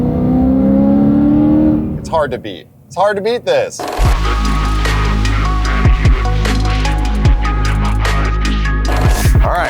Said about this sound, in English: the S65, the V8, is really just like what sets this car apart.